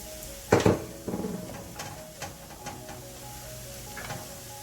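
Eggs mixed into cauliflower fried rice in a pan, a loud clatter of utensil on pan at first, then lighter scraping and scattered taps under a faint steady hum.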